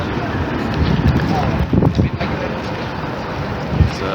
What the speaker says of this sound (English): Like every time it's very windy.